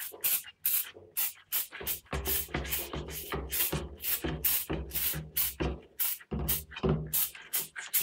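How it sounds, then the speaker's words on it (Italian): Degreaser sprayed from a can onto sink drain parts during household plumbing cleaning: a quick series of short, sharp hissing bursts in close, uneven rhythm, fairly loud and near, with no talking. "Poi si può spruzzare dell'antigrasso."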